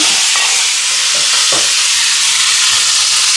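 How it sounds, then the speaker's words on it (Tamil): Mustard seeds, fennel, cumin and curry leaves sizzle loudly in hot oil while chicken is cooked for an almsgiving meal for the poor, a dense, steady roar of frying with a few faint stirring knocks early on. "எண்ணெய் சூடாயிட்டு கடுகு சேர்க்குறேன்."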